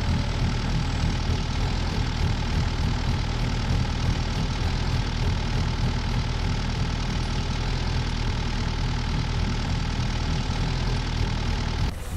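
Sumitomo SH460 excavator engine in Farming Simulator 19, a steady droning idle with a low rumble and faint rhythmic ticking, loud and unbroken, with no talk over it.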